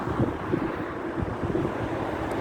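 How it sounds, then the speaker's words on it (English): Cold wind on a riverside at night, a steady low roar and buffeting against the microphone with no other clear sounds and no voices. "so it's very cold and windy"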